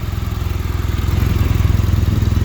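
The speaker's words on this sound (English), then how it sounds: "we're warming up the bike right now" A BMW R1200GS Adventure motorcycle engine idling while warming up before an oil change, a loud, close, steady low pulsing throb with a fast even rhythm and no talk.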